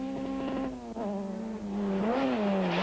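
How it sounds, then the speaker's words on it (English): A Cosworth-engined rally car on a special stage at the 1991 Tour De Total, its engine note rising and falling steadily as it accelerates and shifts, loud and close. "The powerful Cosworth motor unfortunately wasted with the lack of traction"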